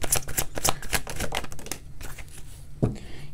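Cards are riffled rapidly in a quick flurry of crisp flicks, then a pause and one final tap of the deck, close up.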